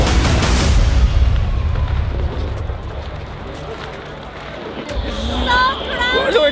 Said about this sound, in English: There's so many people, and out of nowhere, fireworks.